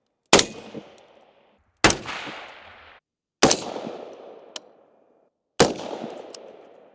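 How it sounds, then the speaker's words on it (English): Four rifle shots from a rifle topped with a Trijicon 4x32 ACOG, fired outdoors at targets set at several distances. Each is a loud, sharp crack followed by a long rolling echo, spaced roughly one and a half to two seconds apart. "what I did there was I shot actually at a couple of different distances"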